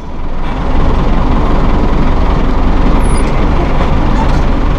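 A 2001 New Holland TL100 utility tractor shifting into third gear on its power shift, a steady loud low engine drone that holds close and continuous after a brief quieter moment at the start.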